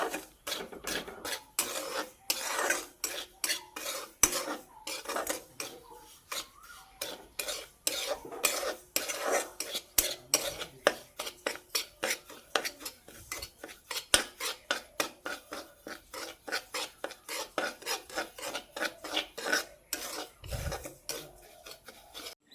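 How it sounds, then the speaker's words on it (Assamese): A spoon stirs sugar into fried semolina in a pan, producing quick repeated scraping and clinking strokes in an uneven rhythm, close and fairly quiet, with no talking. "এতিয়া মই অকণমান লৰাই দিম ধুনীয়াকৈ।"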